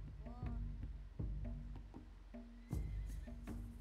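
Wild horse in the survival game Dawn of Man gives several short neighs and whinnies amid game ambience, with low thuds and clip-clop between calls.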